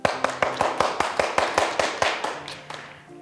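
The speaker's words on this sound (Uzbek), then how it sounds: "Bir-birimizga qarsak chalib qo'yamiz." A group standing in a circle claps hands for one another, a run of about a dozen evenly paced claps, fairly close, loosening and fading toward the end.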